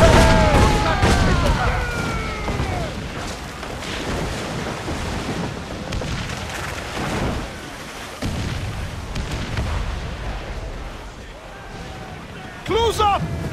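Ship cannons fire in Assassin's Creed IV Black Flag during a sea battle, with heavy booms and rumbling over wind and water, while crew members shout throughout.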